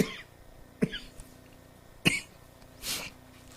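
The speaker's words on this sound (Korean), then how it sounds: "기침 나오지 마라 그랬는데 계속 나오네요" A preacher coughing during a church sermon: three separate sharp coughs spaced about a second apart, close and fairly loud over a quiet room tone.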